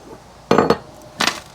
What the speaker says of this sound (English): You're going to put that flat washer on top of the lock washer